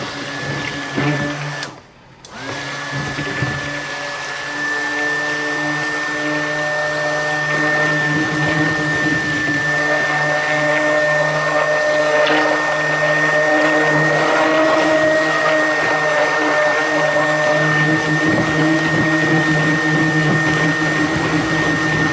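A steady, loud light commercial power wand blender motor whirs continuously for a long stretch while mixing soap ingredients such as sandalwood, with a sustained high whine and little variation.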